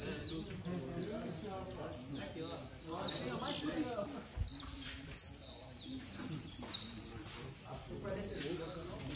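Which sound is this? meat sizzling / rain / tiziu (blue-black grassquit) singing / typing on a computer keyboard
tiziu (blue-black grassquit) singing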